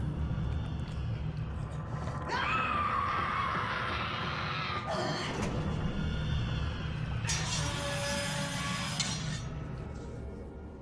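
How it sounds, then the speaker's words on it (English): An eerie scream from the video game BioShock Remastered rises over a low rumble, with a second wavering, high cry coming later and faint glassy clinks in the dark, reverberant background. "After that incredibly eerie scream, we jump ahead to the first plasmid."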